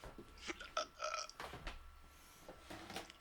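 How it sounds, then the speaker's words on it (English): A person burps during a casual whiskey-drinking podcast: a low, gurgling eructation with a croaky, creaking texture, rising and falling over a few seconds, close to the microphone and fairly quiet, with no talk over it. "I just burped on your podcast."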